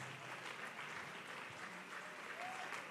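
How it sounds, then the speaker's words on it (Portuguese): A church congregation applauding during a worship service, a soft, even wash of many hands clapping heard from some distance, continuous and fairly faint for the whole stretch. "nós vamos aplaudir o nome do Senhor Jesus"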